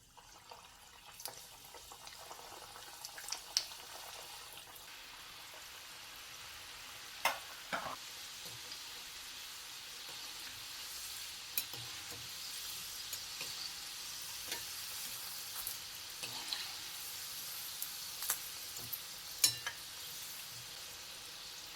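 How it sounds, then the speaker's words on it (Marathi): Modak, Maharashtrian-style fried sweet dumplings, deep frying in hot oil over a low-to-medium gas flame: a steady, fairly quiet bubbling sizzle with occasional sharp crackles and pops, no voices. "मोदक आपण डीप फ्राय करून घेऊया तेल छान तापलेलं आहे"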